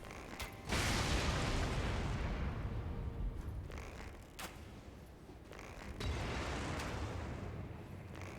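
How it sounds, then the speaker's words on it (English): A bomb explosion in Elden Ring, a loud broadband blast that rolls on for several seconds, followed by a second swell of rumbling debris and noise. "He's gonna throw a bomb at us."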